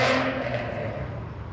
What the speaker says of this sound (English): take his car around the block with the new exhaust